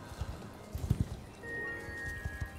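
Hooves of a horse in the Star Stable video game patter in quick, light clip-clop bursts at a moderate distance. A faint tonal game sound enters partway through.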